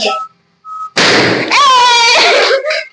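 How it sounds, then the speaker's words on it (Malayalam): A balloon pierced with a pin bursts in one sharp, loud pop, followed at once by excited shrieking voices; earlier there is a short quiet stretch with a faint tone. "കുത്തി പൊട്ടിക്കാൻ നമുക്ക് ബലൂണ് റെഡി"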